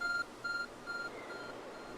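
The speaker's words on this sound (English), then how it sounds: "There's a glowing, beeping object over there." A glowing object in the game Pokemon Legends Arceus gives three evenly spaced electronic beeps, clear and moderately loud over a quiet background.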